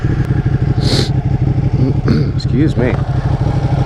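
Ducati Panigale motorcycle exhaust rumbling steadily and loud throughout, a constant low engine drone with some clatter, while a voice briefly speaks over it.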